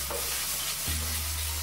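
Onion, ginger, garlic, chili and tomato paste sautéing for palak paneer, a brief, steady, close sizzle with a low hum underneath and no voices.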